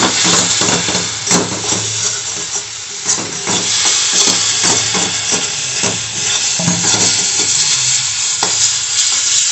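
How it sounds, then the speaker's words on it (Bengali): Spices fry loudly in a pan, a dense continuous sizzle with frequent scraping stirs close by. "দেখুন মশলাটা পুরো ভাজা ভাজা হয়ে গেছে।"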